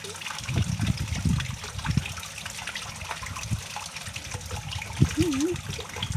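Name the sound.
pouring liquid pesticide mixture into a container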